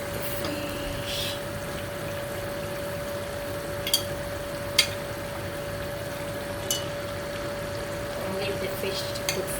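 Fresh salmon pieces slipped into a simmering Ghanaian-style okra stew, giving a few soft, brief plops and clicks over a steady bubbling hiss with a faint constant hum, fairly close and not loud, with no voices.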